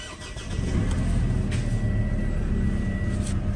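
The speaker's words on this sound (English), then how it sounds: "First of all, I'm going to start this car." A Mitsubishi L200 engine starts with a brief crank and settles into a steady, close, low diesel idle that continues on its own.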